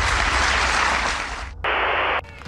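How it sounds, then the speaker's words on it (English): Scattered applause from court watchers inside a courtroom, a broad wash of clapping that fills the first second and a half before dropping off abruptly and returning thinner. "Sharon Rocha was composed and greeted by some applause from court watchers"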